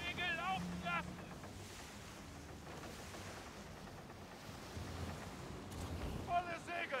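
Wind and rushing water around a sailing ship as its sails are set in Skull and Bones, a steady low whoosh with faint voices and brief shouts over it.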